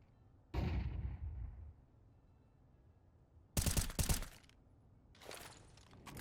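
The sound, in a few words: gunfire in the video game Counter-Strike 2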